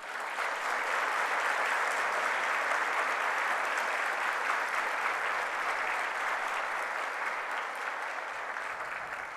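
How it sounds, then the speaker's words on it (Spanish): Sustained applause from a graduation ceremony audience, steady and dense for about nine seconds, loud and close with no talk over it. "les pido en este momento les otorguemos un aplauso a ellos."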